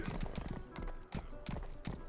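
Galloping horse hooves in the medieval video game Rustler, a steady clip-clop rhythm of repeated hoof strikes running continuously at close range with no voices over it.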